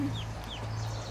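An Easter Egger rooster clucks a few brief, soft chirpy notes over a steady background hum, outdoors in a shaded yard.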